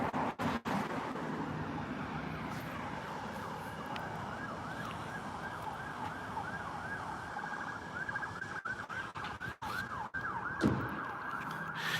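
A fire truck siren wails along a main street, its rising and falling cycles repeating steadily over a mid-distance traffic rumble, with a few sharp knocks and no talk.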